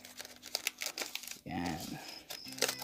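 Scissors cutting into crinkly packaging while unboxing a scorpion delivery: close, irregular plastic crinkling and snipping, with someone speaking softly in the middle.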